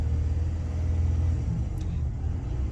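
A truck engine revs up and down on its own with the gas pedal untouched, a loud low rumble surging and easing steadily at close range, with no speech.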